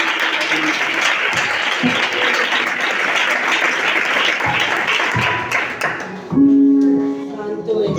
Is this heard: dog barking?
no